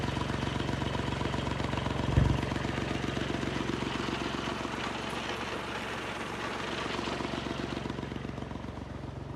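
A tractor engine runs loudly and steadily on a farm where marigold plants are being sprayed, a continuous close rumble with one brief louder knock early on and no talking.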